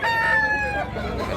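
A rooster crows up close, a loud, drawn-out call lasting just over a second and trailing off at the end.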